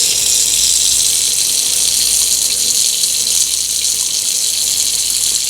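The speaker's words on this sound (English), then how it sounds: "I'm going to go ahead and turn the hot water on now." Hot water running from a kitchen faucet into a sink drain, a steady, loud, close hiss and splash that continues unbroken without speech.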